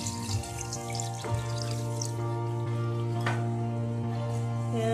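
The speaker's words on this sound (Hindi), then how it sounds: "अब इसमें हम पानी शामिल कर देते हैं।" Water runs steadily into a pan of fish curry over a low cooking hum, with a couple of faint clinks, continuous and close, no voices.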